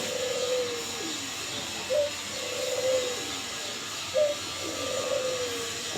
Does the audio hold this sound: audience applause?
no